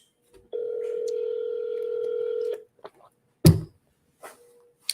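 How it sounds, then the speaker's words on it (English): A telephone call rings out unanswered, a single long steady ring tone lasting about two seconds, followed by brief faint clicks and a short knock-like thump, with no one picking up. "He's not picking up the phone."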